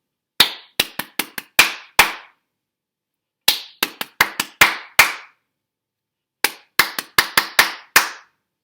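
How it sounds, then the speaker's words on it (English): Hands clap in three short rhythmic phrases of about six sharp, close claps each, with pauses between, during an online class morning meeting. "Everybody clap in."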